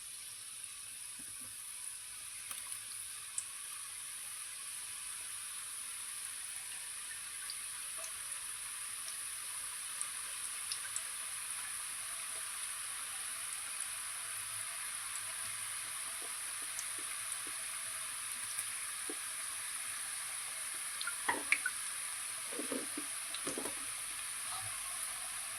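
Gavvalu, small shells of jaggery, maida and wheat dough, fry in hot oil with a soft, steady sizzling hiss, faint and continuous, with a few light clinks near the end.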